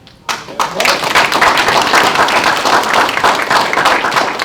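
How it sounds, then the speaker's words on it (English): An audience at a JMA Masterclass breaks into loud, sustained clapping that starts abruptly and continues as a dense, steady wash of applause. "With all those claps, all those applause, and I appreciate it"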